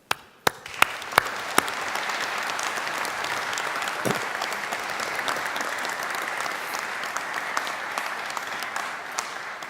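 Graduates at a university humanities and social sciences graduation ceremony applaud their families and friends, a steady sustained applause from a large hall crowd, fairly distant, with a few sharper claps at the start.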